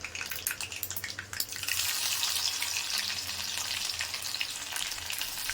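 Mustard seeds and fenugreek fry in hot oil for a taro tamarind curry, first with sharp scattered pops and crackles, then settling into a steady, close, hissing sizzle.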